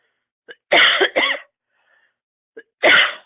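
Two bursts of harsh coughing, each a quick double or single hack, separated by a short pause, close and loud in a quiet room.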